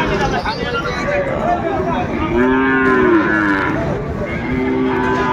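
Sahiwal bull calves mooing at a busy cattle market, several drawn-out moos rising above constant nearby voices and crowd chatter.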